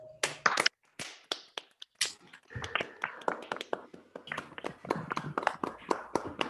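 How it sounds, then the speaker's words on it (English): Round of applause from participants unmuting on a Zoom call, a burst of scattered hand claps and taps from several people at uneven volumes, some crisp and near, others thinner, with faint voices mixed in toward the end. "give Sam a big round of applause"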